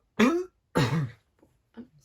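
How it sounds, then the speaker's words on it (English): A single person coughs or clears the throat in two short, close bursts during a podcast recording, followed by a few faint small vocal sounds. "I didn't want to cough too much, so I tried to like buff it out"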